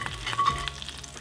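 Redfish frying in olive oil sizzles briefly and crackles while it is stirred around the pan, with a light scrape of a utensil.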